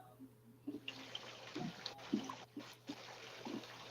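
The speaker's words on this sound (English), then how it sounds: "I hear water." Running water trickles and splashes faintly in the background with scattered small drips and splashes. It is quiet, distant and continuous.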